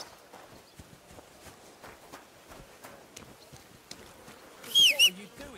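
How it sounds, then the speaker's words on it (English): Horse hooves clip-clop on the ground in the video game Kingdom Come Deliverance 2, a quiet, steady walking rhythm of light knocks, with a short louder sound near the end. "that looks like a bloody expensive horse"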